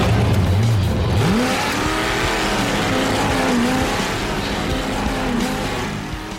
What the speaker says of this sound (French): fait chauffer les pneus, attirant malgré lui une attention pas forcément désirée